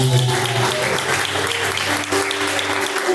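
A church congregation claps together in praise, a loud, dense wash of applause that holds steady throughout, with a sustained musical tone underneath.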